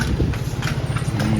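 A horse walks along on a short family vacation outing, its hooves giving a steady clip-clop close by over low rumbling background noise, with no talking.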